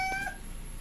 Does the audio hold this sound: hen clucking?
no